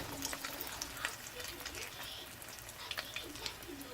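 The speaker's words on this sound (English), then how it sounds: "You're frying it." Soft crackling and sizzling of plantain and eggs frying in hot oil, a steady bubbling hiss with small pops, faint and close.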